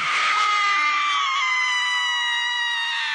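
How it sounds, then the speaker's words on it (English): A woman's stock scream effect, long and piercing, holding steady and loud for about three seconds with no other sound behind it. "insert stock woman screaming"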